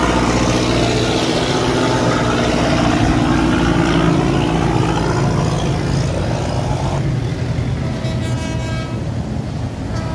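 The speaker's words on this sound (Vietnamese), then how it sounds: "Bắt đầu một anh ghe tăng tốc qua cống nha." A boat's engine roars loud and steady as it speeds up through a canal culvert, a constant close drone that shifts in tone near the end.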